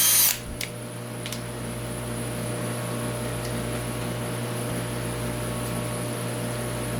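A power drill runs steadily while driving a thread tap held in its chuck, cutting threads in a metal scope ring for a Browning A-Bolt 3, a constant close machine hum after a brief loud start.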